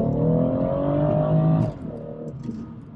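A BMW B58 engine with an MHD stage 1 tune in Sport Plus mode, revved in a sustained rising drone for about a second and a half, then dropping abruptly to a lower, rougher idle.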